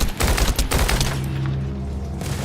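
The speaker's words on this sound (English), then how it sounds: "Grenade volley. Gets ice bullets too." A loud, rapid volley of grenade shots fires in the video game The First Descendant, a dense burst of blasts in the first second trailing into a low rumbling hum.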